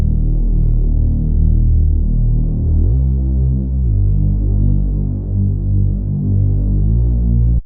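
Compressed Reese bass synth: a thick, continuous low droning tone with a wobbling, throbbing motion and a pitch step partway through, loud and steady without any voice.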